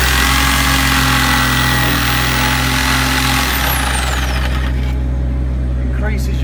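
A jigsaw cuts out one half of a mason's mitre joint, a loud, steady, unbroken motor whine with a rough buzzing edge that runs throughout and eases slightly near the end.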